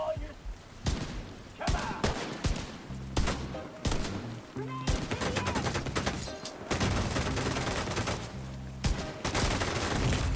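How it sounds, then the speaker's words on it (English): Gunfire from a giant police magnum pistol in the video game The Division 2, a rapid series of loud shots and booms over dense combat noise, close and continuous. "I've equipped a giant police magnum pistol."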